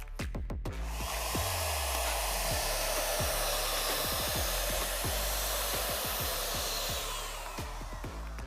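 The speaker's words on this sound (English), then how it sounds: "I'm going to use my Wagner pre-treatment gun. Already has the pre-treatment liquid in it" A Wagner pre-treatment gun sprays pre-treatment liquid in a steady, loud, continuous hiss that runs almost unbroken from start to finish, with a few faint low thumps underneath.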